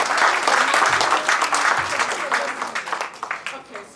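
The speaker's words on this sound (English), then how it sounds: "Everyone should give her a round of applause." A room of neighbors at a local community meeting breaks into sustained applause for their alderman, dense clapping close and loud throughout, with a few voices mixed in.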